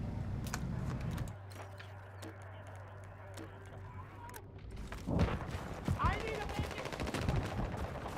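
A slow-firing gun in the shooter game Battlefield 6 lets off spaced bursts of shots over the noise of a busy battlefield, with voices and other sounds mixed in.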